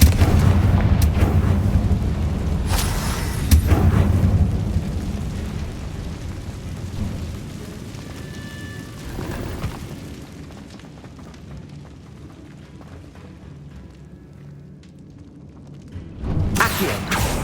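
Confringo fire spell explosions in the Hogwarts Legacy wizarding game, deep booming blasts early and again at the end, with rumbling dying away and quieter combat ambience between.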